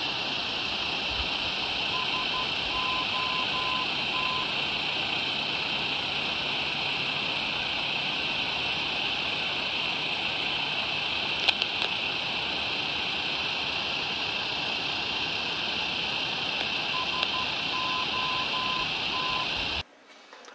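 Constant VOR navigation radio hiss with a steady tone, plus a faint keyed Morse identifier beep pattern sounding briefly near the start and again near the end.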